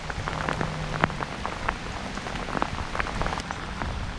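Steady rain patters over a park pond during a wet-weather fishing outing in New Jersey, with dense scattered droplet ticks and a continuous soft wash, moderately close and alone.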